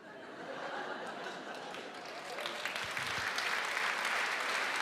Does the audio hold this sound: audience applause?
yes